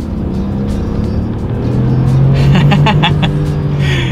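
A 2018 Genesis G80 luxury sedan accelerating hard, its engine note rising steadily in pitch and volume from inside the cabin, smooth and continuous with a faint tire or road hiss.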